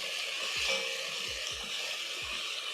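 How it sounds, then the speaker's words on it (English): Diced tomatoes sizzle steadily in a hot cooking pot for Kenyan muthokoi, a bright continuous frying hiss with soft low thumps of a spoon stirring every half second or so. "Stir in my tomatoes."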